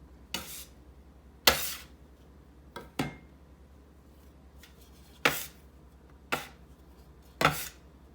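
A dough scraper knocking and scraping sticky yeast roll dough off a counter, seven sharp separate hits spaced about a second apart over a low steady hum, close and alone.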